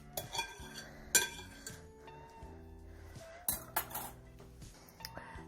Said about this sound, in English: I am just going to use a big old spoon